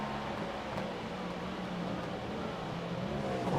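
A race car engine in the iRacing sim during a 24-hour Le Mans race, running as a steady continuous drone with a slightly rough, uneven sputtering texture throughout, no talking.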